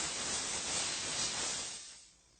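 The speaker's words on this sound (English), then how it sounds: "And then finally, the steam cleaner." A steam cleaner blasts a loud, broad hiss while cleaning jewelry after polishing, holding steady for about two seconds and then cutting off abruptly.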